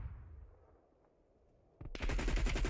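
RPD machine gun fired in a shooter game on the Crossroads map, a loud, rapid, sustained automatic burst that breaks in suddenly after a quiet, fading tail.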